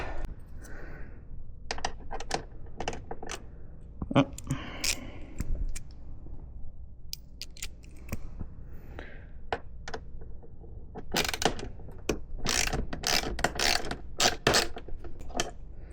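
A 4mm silver bolt is worked loose from the fairing of a 2025 Ducati Panigale V2 with a hand tool, giving bursts of quick, sharp ratchet clicks and small metallic creaks, close up and alone.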